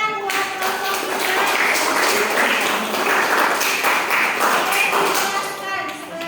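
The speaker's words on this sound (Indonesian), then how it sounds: "Kasih tepuk tangan buat kelompok kita." A crowd applauds steadily, dense clapping lasting several seconds, loud and close, easing slightly toward the end.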